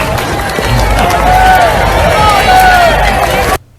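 A dense, loud crowd roar of cheering and shouting voices greets Harry and Meghan, filling the whole stretch before cutting off abruptly.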